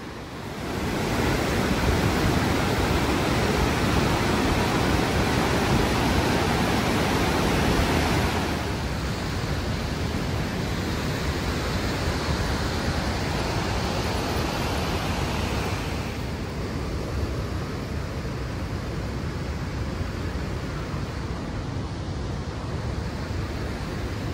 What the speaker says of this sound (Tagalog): So this is the Bow Falls here in Banff National Park